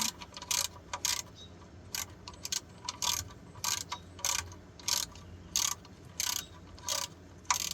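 A ratchet wrench tightens the oil drain plug on a 2004 Toyota Corolla, giving a dozen or so short, crisp bursts of clicking in a steady back-and-forth rhythm, close up.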